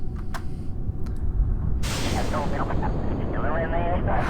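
Modded solid rocket boosters ignite in Kerbal Space Program after a quiet low rumble, then give a loud, steady roaring thrust that holds for several seconds while a person talks over it.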